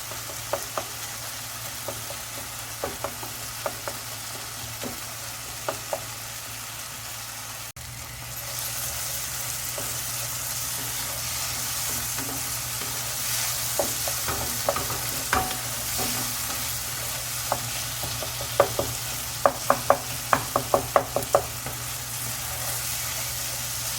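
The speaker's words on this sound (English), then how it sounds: "Let's still fry for 4 minutes is I think enough." Steady sizzling in a frying pan while cooking baigan ka bharta before the eggplant goes in, with scattered scrapes and taps of a stirring utensil, constant and close, growing slightly louder partway through.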